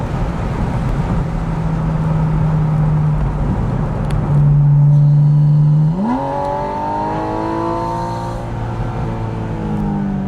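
A Porsche Spyder driven in manual mode: a loud, close engine holds a steady drone, drops briefly at a shift, then climbs again and rises in pitch as it accelerates hard, with no talking.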